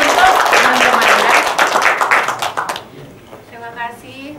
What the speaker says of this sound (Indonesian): beri tepuk tangan dulu untuk teman-temannya